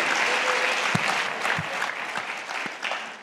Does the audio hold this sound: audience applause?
yes